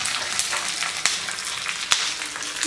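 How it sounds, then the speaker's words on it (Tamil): Curry leaves sizzle and crackle in hot tempering oil over a low flame for a mutton kuzhambu, a dense continuous fry with a few sharper pops. "கருவேப்பிலை 1 கொத்து, நல்லா ஃப்ரை ஆனதும் குழம்புல சேர்த்துடலாங்க."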